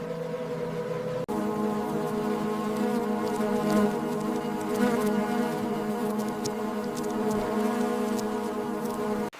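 Bees hum steadily around their densely populated wild nest, a dense, continuous close buzz with layered tones and no pauses.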